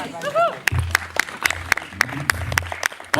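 An audience claps for a folk band performing at a water mill. The applause is steady and rhythmic, with clear, evenly spaced claps, and a voice talks over it at the start.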